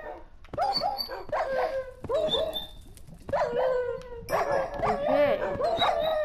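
Dogs barking, yipping and howling in Minecraft PlayStation 4 Edition as they fight an iron golem, in repeated close bursts of barks and whines through the whole stretch, with a voice talking at points.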